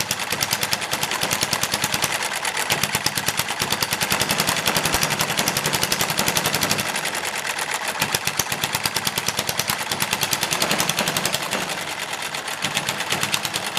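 A small model engine runs at speed, firing unevenly as it hits and misses with a loud, rapid chattering rattle, and a nearby desk buzzes along with it throughout.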